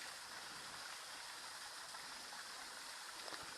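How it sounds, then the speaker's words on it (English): A little waterfall and creek at a campground, heard as a steady, broadband rush of falling and flowing water that stays constant throughout, with no voices over it. "If you can hear it through the additional mic, there's a little waterfall down the bottom there."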